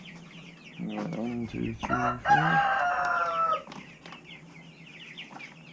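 Farm chickens cluck and crow close by in a short burst of overlapping calls, while a person speaks briefly nearby.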